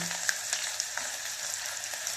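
Tempering sizzling in hot oil for gongura dal, fried until red, a steady soft crackle with scattered small pops, alone with no talk.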